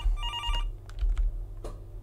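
A telephone rings with a short burst of rapid bell-like trills near the start, followed by a few clicks and knocks, close and moderately loud without talk.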